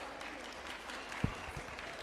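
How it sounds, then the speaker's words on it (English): Audience clapping at an award felicitation for student achievers, a fairly faint, steady patter of applause throughout with one sharp louder clap near the middle. "Let us welcome her with a huge round of applause."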